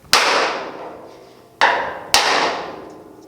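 Three hard, ringing strikes of a wood block hammered against the sheet-metal bed of a 1950 Chevy truck, each blow echoing and decaying, spaced unevenly and loud.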